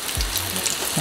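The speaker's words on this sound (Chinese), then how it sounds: "I love the fizzy sound of fried food." Apricot fritters fry in hot oil, giving a brief, close, fizzy sizzle that stays steady for about a second.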